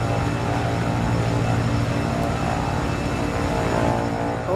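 Propeller airplane engine droning steadily in Microsoft Flight Simulator, a loud continuous hum with a low throb, holding level throughout with no talk over it.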